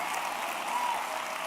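Audience applause at a church gathering, a dense, steady burst of clapping from a crowd, loud and unbroken.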